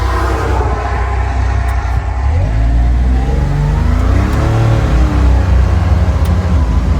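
A 2026 Can-Am Defender Limited HD11 UTV on 30-inch tires drives with a loud, steady engine drone that rises and falls as it accelerates, with road rumble beneath.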